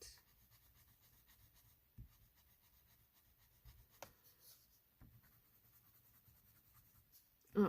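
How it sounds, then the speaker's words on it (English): Crayola Blend and Shade colored pencils are rubbed across paper while blending, making a very faint, close, continuous scratchy rasp with a few soft taps and no talking. "And you can see we're starting to blend."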